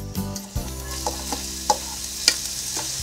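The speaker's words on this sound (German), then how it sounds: "mache ich zuerst die Zwiebeln glasig und dann kommt die Paprika dazu" Onions and peppers fry in olive oil in a pan with a steady sizzle, broken by a few sharp scraping clicks as the vegetables are stirred.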